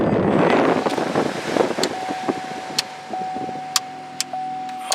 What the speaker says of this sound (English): now we're gonna see if we got HVAC blower in this